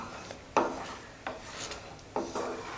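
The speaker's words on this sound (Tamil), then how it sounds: "அடுப்பை வந்து மீடியமாகவே வச்சு நல்லா கிளறி விட்டுட்டே இருங்க." Thick rava halwa is stirred in a pan over medium heat, the utensil dragging through it in a few separate rasping, scraping strokes.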